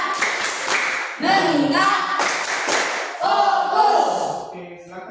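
A classroom of children claps together in a patterned rhythm, bursts separated by short pauses, with the children's voices chanting a focus clap routine along.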